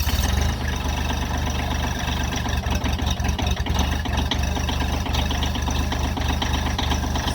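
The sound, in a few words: vehicle engine starting and idling in winter cold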